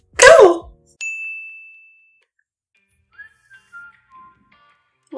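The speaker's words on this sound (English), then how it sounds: "Whistle sounds." A single sustained whistle tone holds steady for about a second after a short burst of sound, followed by a few faint, softer whistled notes.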